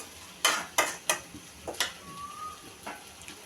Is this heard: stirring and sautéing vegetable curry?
yes